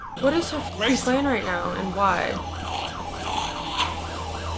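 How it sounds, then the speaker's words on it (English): An emergency vehicle siren wails in a repeated rising-and-falling pattern in the background, steady beneath a person talking loudly in the foreground. "Sorry about the siren in the background."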